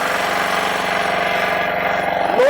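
Chhibber corn picker engine running steadily and loud up close, a dense continuous mechanical drone with a fast regular pulse throughout and a small clunk near the end.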